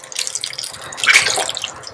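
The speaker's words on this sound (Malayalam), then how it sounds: "ഈ ഒരു സ്റ്റേജിൽ നമ്മൾ വെള്ളം അതൊന്ന് ഒഴിക്കും." Water poured into a cooking pot to boil for semolina puttu, a steady splashing pour running the full two seconds and swelling briefly in the middle, close and clear with no talk.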